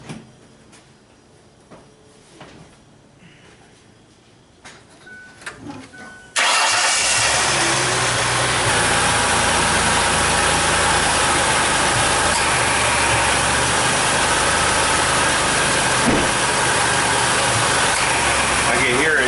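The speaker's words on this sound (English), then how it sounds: "if you listen with hopes you could hear that compressor come on." A Mercury Monterey's engine starts and settles into a steady, loud idle, with a broad whirring layer as the AC compressor cycles on with AC set to max; faint sounds precede the startup.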